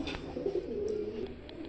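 A pair of KTM breed pigeons, a male and a female, give a low, steady cooing that runs through the whole moment at close range, with no voices.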